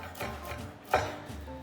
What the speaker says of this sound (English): And then I just dice them up pretty small.